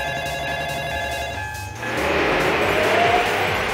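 A Plarail toy railroad crossing alarm rings in a steady electronic tone, then cuts to a louder hissy rush, like a small train sound effect, close and alone.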